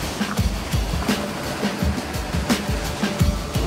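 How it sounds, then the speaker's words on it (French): High ocean waves and swell churn at a Chinese beach in a steady, close rushing wash with irregular thumps, with no talk. "Les vagues sont trop hautes."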